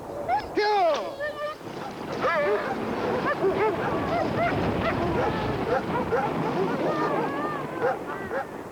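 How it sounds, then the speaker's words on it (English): A dog barks and yips repeatedly in a lively, irregular series, mixed with whining and squeaky calls, over a steady background of broadband noise, fairly close and clear throughout. "Hey, dog! Come on, dog! Go!"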